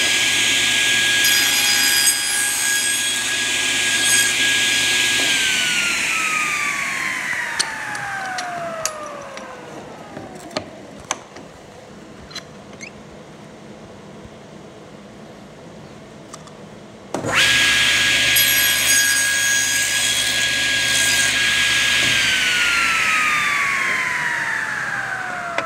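Power saw cutting a tenon on a wooden picture frame piece, a loud whining cut that winds down around five seconds in, a quieter lull, then the blade spins up again and cuts hard near the end, with no talk.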